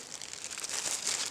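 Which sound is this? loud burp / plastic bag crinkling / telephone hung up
plastic bag crinkling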